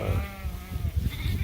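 A sheep bleats on an open pasture shared with cattle and guardian dogs, a single drawn-out wavering call close by, with low rumbling background noise around it.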